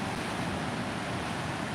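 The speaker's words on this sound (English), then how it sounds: "I was watching a couple waves come in there" Ocean waves on the Northern California coast, a continuous broadband wash of surf mixed with wind noise, steady and fairly loud with no talking.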